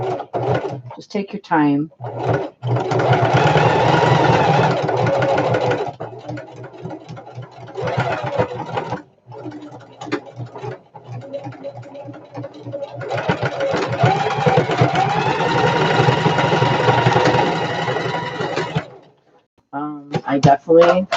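A sewing machine stitches slowly through the bulky part of a shoulder bag, running in two long near bursts with short pauses and rattling stops between them, while a voice speaks briefly.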